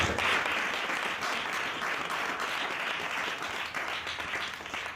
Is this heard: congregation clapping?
yes